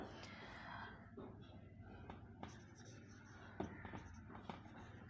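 Pen scratching out maths working on paper, a soft continuous scribble with short strokes and taps, fairly close and quiet over faint room noise.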